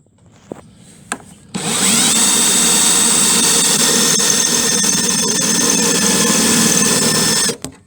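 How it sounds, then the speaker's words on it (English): A power drill whines steadily and loudly for several seconds, drilling out spot welds on a rusted quarter panel of a 1966 Dodge Dart GT, preceded by a few sharp knocks. "the way we are trying to do this is to drill out the spot welds"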